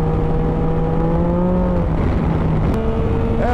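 A 2016 Yamaha MT-09 Tracer three-cylinder motorcycle rides hard on a wet road, its engine droning steadily and loud with shifting pitch as it accelerates and changes gear, wind rushing throughout.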